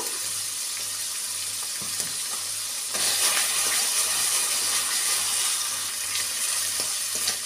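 Salted onion paste fries in a covered pan with a steady broadband sizzle and hiss, growing slightly louder partway through, with occasional small pops and no voices.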